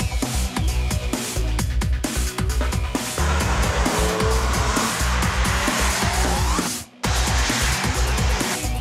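BMW 1 Series M Coupé driven hard on a race track, engine roaring loud and close through rapid gear changes, with tires squealing and skidding through corners and a brief cut near the end.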